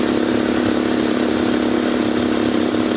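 Motorcycle engine straining uphill in third gear on the steep roads of Timberland, a steady, loud, buzzing drone heard up close without a break.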